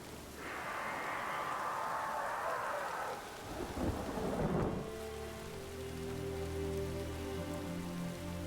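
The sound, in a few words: rain and thunder in video game The Witcher 3: Wild Hunt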